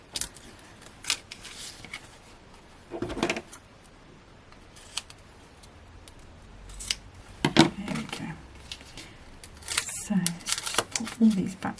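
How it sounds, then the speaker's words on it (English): Scissors cutting a foam pad during card crafting, a few close sharp snips and rustles scattered amid quiet handling noise, with a voice talking in places. "I'm going to have to cut that foam pad a little bit."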